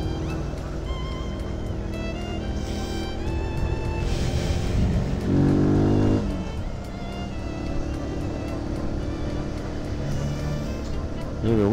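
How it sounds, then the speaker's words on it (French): A Renault Mégane passing on a Paris street at night with an odd, rough exhaust note, a loud swelling engine roar over traffic and street noise, with voices talking nearby. "C'est un mégane, ça passe hein, ça fait un drôle de bruit"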